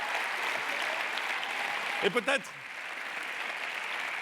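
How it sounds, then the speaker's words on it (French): Audience applause fills a hall at the Horizons political congress in Lille, a steady broadband patter that runs throughout, with a brief spoken phrase near the middle over it. "Je voudrais que vous leur fassiez un tonnerre d'applaudissements."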